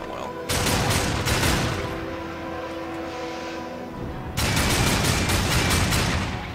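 Sustained gunfire in the Darksiders 2 video game, loud and continuous with bursts starting around half a second and a second heavy stretch near the end, with a quieter rumbling lull between.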